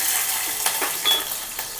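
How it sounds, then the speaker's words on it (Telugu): Green chillies dropped into hot oil for a purple yam curry, giving a steady, fairly close sizzle with a few small crackling pops across the short stretch. "ఆయిల్ మరిగిందండి పచ్చిమిర్చి వేస్తున్నాం"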